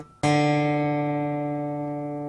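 A single guitar string plucked once during tuning, ringing loud and clear with a strong sustained tone that fades slowly, heard alone.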